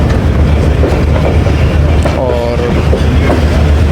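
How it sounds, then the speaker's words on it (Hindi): A non-stop express train runs through a station platform at about 85 km/h, a steady loud rumble and rattle of rail cars with faint wheel clatter, while a voice speaks briefly nearby. "नॉन स्टॉप ट्रेन यहाँ से 85 की स्पीड से जाती है"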